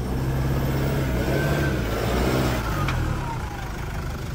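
A Toyota 4x4 pickup's engine runs steadily with reverse gear engaged, giving a loud, continuous mid-range rumble with a slight rise in revs, and faint background noise.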